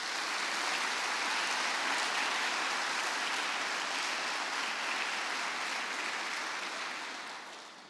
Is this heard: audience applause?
yes